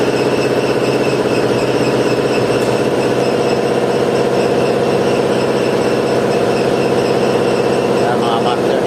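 The motor of a Putzmeister 42-4 concrete pump runs steadily in a loud, continuous low drone with a constant mechanical whine, a voice speaking faintly over it.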